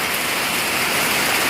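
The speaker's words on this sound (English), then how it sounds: "He beat this rain." Heavy storm rain pours down in a dense, steady hiss that stays loud and even throughout, with no voices or distinct drops standing out.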